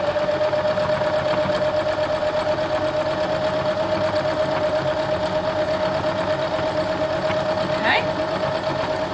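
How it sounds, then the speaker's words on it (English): A sewing machine runs steadily, stitching a border strip onto a quilt with right sides together. Its continuous whirring hum holds an even tone throughout, close and uninterrupted. "And stitch that strip down."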